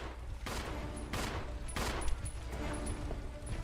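Gunfire in a retro video game, with several sharp bursts spaced roughly half a second apart over a steady background of game sound.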